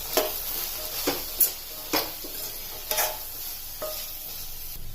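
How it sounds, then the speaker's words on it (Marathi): Spices and chickpeas are stirred in a pan for palak chana masala, with green chilies and garam masala added; a spoon scrapes in several distinct strokes over a soft, steady sizzle, close and fairly quiet. "छान मिक्स करून घ्यायचे."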